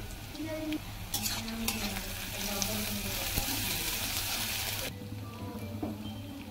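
Onions frying in a pan until golden brown give a loud, close sizzle with stirring scrapes. The sizzle thins out near the end.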